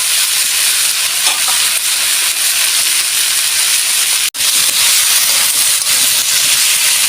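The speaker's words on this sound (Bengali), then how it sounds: "ভালো করে ভাজবো।" Vegetables for a Bengali panch mishali chorchori frying in hot oil, a steady loud sizzling hiss filling the whole stretch with only a split-second break, close up and without voices.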